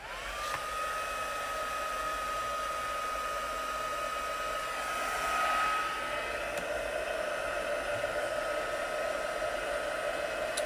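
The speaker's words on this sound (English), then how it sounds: "I have my heat tool here" A heat tool blows hot air steadily for card making, a continuous whooshing drone with a faint whine that swells briefly midway and runs alone without talk.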